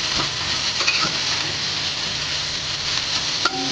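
Pork igado stirred and frying in a hot pan, a steady loud sizzle throughout with occasional scrapes and clinks of the utensil against the pan.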